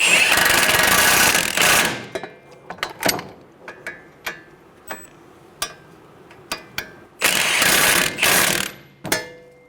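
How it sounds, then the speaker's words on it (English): A power ratchet tightens the knuckle-to-strut nuts on a 2011-2014 Hyundai Sonata front suspension, with two loud whirring bursts bracketing a run of sharp, separate clicks and taps close up. "Snug down the nuts, going from the knuckle to the strut."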